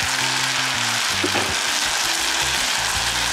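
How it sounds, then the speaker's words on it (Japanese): Udon noodles frying with yakisoba sauce, made with Fujinomiya yakisoba ingredients, in a loud, dense, continuous sizzle with a steady low hum underneath and no speech. "ここでこのね、焼きそばソースをね、入れてみようかと思います"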